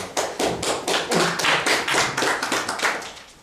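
Audience at a Polish poetry-slam writing festival breaks into steady applause, a dense run of hand claps close by with no talking over it.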